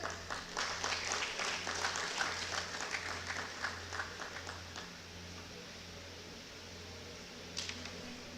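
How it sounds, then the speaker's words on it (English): An audience applauding at a college alumni jubilee meet, steady clapping from many hands for several seconds that gradually thins and fades, with no talking over it. "join me with a huge round of applause"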